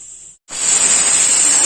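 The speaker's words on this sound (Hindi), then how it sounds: "गाइस देखिए इसमें सीटी आने वाली, 2-3 सीटी आएगी तो ये बन जाएगा।" A pressure cooker cooking Kashmiri-style saag with paneer lets out a loud, steady steam hiss with a high whistling edge after a brief gap, close by and continuous with no talk.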